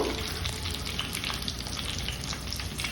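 Urad dal tempering sizzling steadily in hot oil for a ridge gourd curry, a continuous crackling fry with faint stirring, moderately loud and close with no talk.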